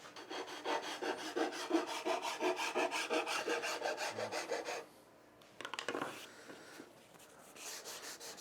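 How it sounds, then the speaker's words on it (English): A file makes light, rhythmic rasping strokes along melamine edgebanding, about a dozen quick passes close up. A pause follows, then a few softer scrapes. "Light pass with the file."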